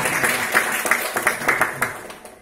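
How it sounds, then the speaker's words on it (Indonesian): An audience claps for a speaker at an insurance sales talk, a short burst of close, uneven hand claps with distinct sharp hits that thin out toward the end. "Tepuk tangan dong buat saya"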